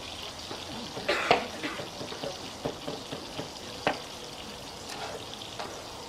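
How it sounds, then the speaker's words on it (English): Pork sizzles and crackles in a hot pan, a steady frying hiss with scattered pops and light clatter, fairly close and moderate in volume. "you can hear probably that it's sizzling pretty good in there"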